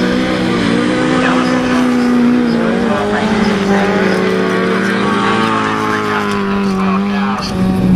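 Autograss race cars in a class 6 final roar past with rising and falling engine whines, loud and close, while a commentator talks over them.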